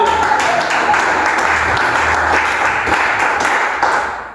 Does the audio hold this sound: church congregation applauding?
yes